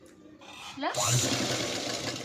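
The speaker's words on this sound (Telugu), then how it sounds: "ఇప్పుడు దీన్ని నేను ఇలా పైకి స్టిచ్చింగ్ స్టార్ట్ చేసి" A sewing machine stitching fabric for back dori hanging decorations starts with a brief whir, then runs steadily and loudly after the first second, with a faint voice underneath at the start.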